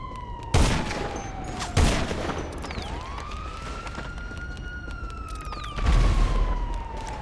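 Grenade and RPG explosions in a public-lobby multiplayer video game: three heavy booming blasts at irregular intervals, loud and close, with a steady tonal whine and game noise continuing between them and no talking.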